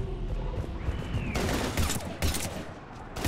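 Rapid gunfire rattles through a Mass Effect 3 battle, dense overlapping bursts of shots with sharper loud volleys cracking in partway through, all close and continuous.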